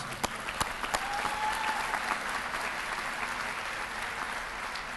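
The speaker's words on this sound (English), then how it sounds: "Sinicia, yes, another round of applause" An audience at a university commencement claps for a singer who just performed the national anthem, with a few sharp nearby claps standing out over a steady, moderately loud wash of applause.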